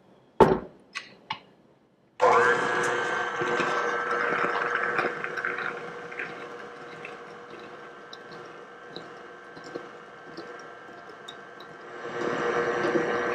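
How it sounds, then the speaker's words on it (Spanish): Brown sugar, granulated sugar and egg being beaten together for chocolate chip cookie dough, a few sharp taps followed by a long steady whirring churn close by that softens midway and rises again. "el azúcar morena, el azúcar granulada, el huevo, y batimos hasta que se mezclen bien."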